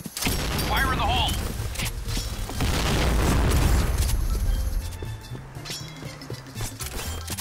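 A grenade detonates in a multiplayer shooter, a deep boom with a rumbling tail under players' voices.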